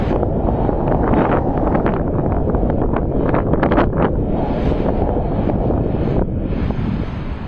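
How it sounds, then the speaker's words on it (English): Violent level 12 storm winds batter Jinan in Shandong. A loud, unbroken roar of wind buffets and gusts steadily throughout, with no voices. "Then the wind arrived, at first weak, then suddenly violent."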